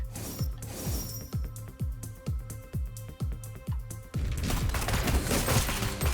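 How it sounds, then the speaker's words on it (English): Enemy gunfire in the video game Neon Abyss: a steady, loud run of rhythmic synthetic shots with a metallic mechanical ring, giving way to a denser, noisier burst of blasts near the end. "these guys shoot shots way up into the air"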